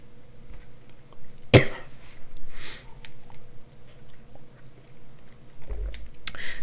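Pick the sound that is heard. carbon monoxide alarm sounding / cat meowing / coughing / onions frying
coughing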